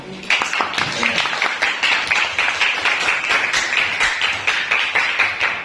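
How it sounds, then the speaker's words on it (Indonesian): A small classroom group claps, the individual hand claps fairly distinct and rhythmic, continuing steadily throughout at close range. "Ya, tepuk tangan"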